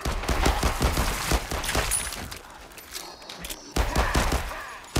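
Gunfire from shooting zombies in Arizona Sunshine 2, a rapid string of sharp close shots in quick succession, a quieter pause, then another burst of repeated shots, loud and punchy with no talking.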